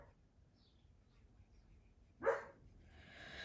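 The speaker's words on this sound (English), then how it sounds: "so he loves to bark at them" A puppy lets out a single sharp bark, sudden and fairly close, after a quiet stretch, followed by a soft hiss of background noise.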